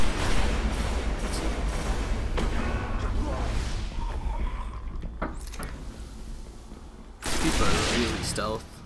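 Gunfire from the shooter video game Destiny, fast bursts of shots and thuds running throughout, dense and loud under a voice talking, with a louder burst near the end.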